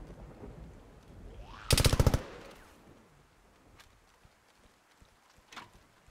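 A short, loud burst of rapid automatic gunfire rings out in a zombie-shooting video game, followed by quieter scattered footsteps and soft thuds.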